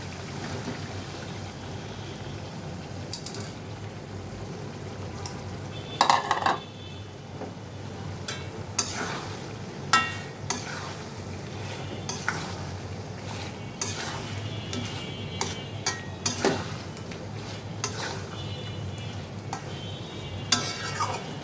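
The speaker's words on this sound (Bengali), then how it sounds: "আলু পটল দিয়ে একটু কষাবো" Potatoes and pointed gourd sautéing with spice paste in a pan for egg dolma, a continuous sizzle with repeated sharp spatula scrapes and clinks against the pan throughout, close and fairly loud.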